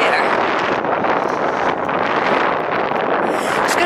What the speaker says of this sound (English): It's going to be quite windy.